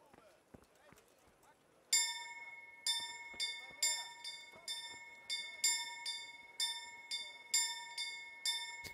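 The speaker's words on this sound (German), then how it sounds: "Er läutet also jetzt die Glocke für alle." A heavy bell tolls about fourteen times in a slow, steady rhythm in the village square of medieval game Kingdom Come: Deliverance. Each clear strike rings out and fades before the next, with a faint murmur of background noise.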